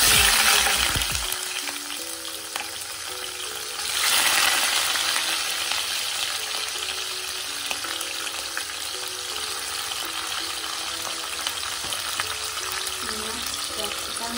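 Ingredients for chilli chicken hit hot oil and fry with a loud, dense sizzle that flares up again a few seconds in, then holds as a steady close crackle.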